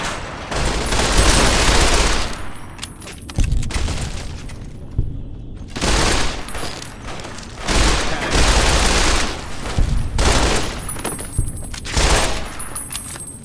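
Gunfire in the Fallout New Vegas video game, loud bursts of rapid shots in several long volleys with short breaks between, close and dense, with no talk.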